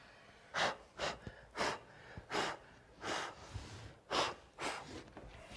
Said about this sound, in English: Don't breathe, I'll blow.